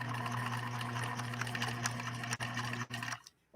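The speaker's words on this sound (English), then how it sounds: "this is our last stitch that Joelle gave. Let's give this a go" A PFAFF 1222E sewing machine stitches a Batman symbol, running in a steady rapid hum of needle strokes at close range, then stopping abruptly near the end.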